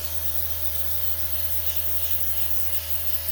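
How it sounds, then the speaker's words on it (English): An airbrush sprays brown paint onto an index card, giving a steady, close, continuous airy hiss with a low compressor hum underneath that runs unbroken throughout, with no talking. "I just was spraying like this, and it goes on dry"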